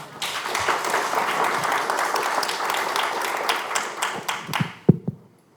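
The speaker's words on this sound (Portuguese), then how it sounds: "Uma salva de palmas para eles" Audience applause after a conference panel debate, a dense burst of many hands clapping that thins out into a few scattered claps before stopping.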